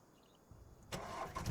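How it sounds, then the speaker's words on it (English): An engine starts up in Farming Simulator 25, a quiet lull giving way at once to a loud, steady mid-pitched rumble that holds to the end, with no talk over it. "I forget that I need to start the engine"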